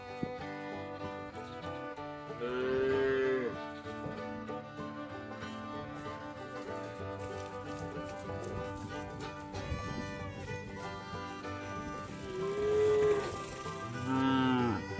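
Cows being shepherded across a green grass field give several drawn-out, rising moos, close and fairly loud, over a steady bed of other sound.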